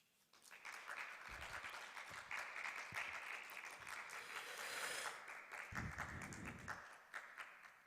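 An audience claps after a poetry recital at a book presentation, a sustained round of applause lasting several seconds. A few louder individual claps stand out near the front, and the clapping swells before tapering off.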